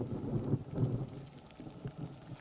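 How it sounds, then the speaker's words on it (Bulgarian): Low rumbling thunder rolls through light rain outdoors on a Danube river island, a muffled deep grumble with soft rain patter and no voices. "Времето се влуши, почна леко да вали и да гърми."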